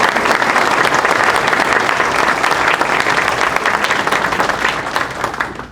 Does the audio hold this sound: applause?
yes